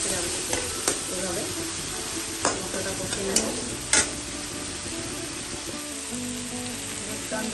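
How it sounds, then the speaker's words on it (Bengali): Spices frying with tomato, green chilli and cumin in a pan, a continuous sizzle broken by sharp clicks and scrapes of a spatula stirring, close and steady. "এভাবে মশলাটা কষে নেব।"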